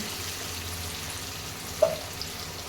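Low, steady sizzle of onions frying in a pan, with a single brief clink partway through; no voices.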